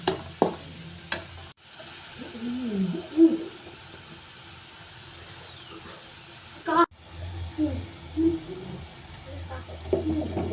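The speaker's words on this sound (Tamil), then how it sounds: "ஆட் பண்ணி திருப்பி நல்லா ஃப்ரை பண்ணி" Grated carrot halwa frying and being stirred in ghee, with soft sizzling and intermittent scraping stirs in a pan, close and fairly quiet, with a gap of near silence partway through.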